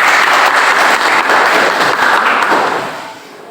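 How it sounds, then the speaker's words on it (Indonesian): A classroom of students claps together, a loud, dense burst of applause that holds steady and then fades out toward the end. "Ya, bagus, tepuk tangan."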